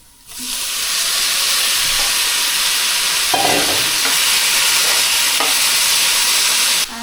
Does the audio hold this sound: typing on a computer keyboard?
no